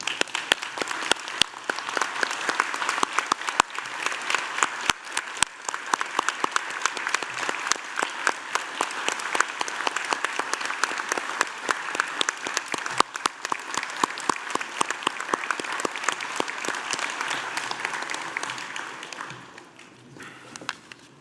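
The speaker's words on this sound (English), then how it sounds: "join me in applauding the wonderful" Sustained applause from a graduation ceremony audience at the University of Newcastle, Australia, dense and steady clapping for about twenty seconds before tapering off at the end.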